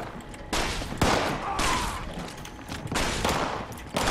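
Rapid bursts of gunfire from the video game Fallout 76 crackle loudly and repeatedly in close succession, bursts of automatic fire separated by brief gaps.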